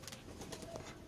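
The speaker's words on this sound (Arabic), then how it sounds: "الحمام القلاب هذا" Soft low cooing from a pair of aerial tumbler pigeons, with a few pulsing coos and a faint chirp over a quiet background, no voices present.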